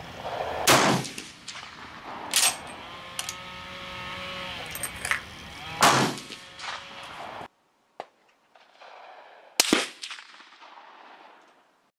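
A scoped K31 rifle fires at an outdoor shooting range, with several sharp, loud shots spaced a couple of seconds apart. Each crack trails a short echo, and quieter metallic clicks of the bolt are heard between shots.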